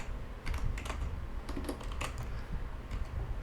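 Command being typed on a computer keyboard, a run of light, close key clicks in an uneven rhythm over a soft room hum.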